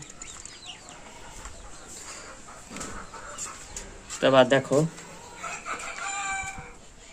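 Hens on a small family farm in Bangladesh give a short burst of loud, close clucking and squawks midway, followed by softer calls, while someone talks quietly over the scene.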